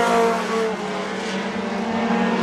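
A race car pulls hard down the track with a loud, sustained engine drone and harmonic whine, the pitch climbing steadily as it accelerates close by.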